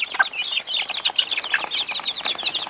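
Chicks or young chickens peep and cluck continuously in a busy high-pitched chorus close by, with no talking.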